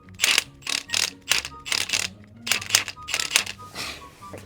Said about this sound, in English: Let's put the drain bolt back on.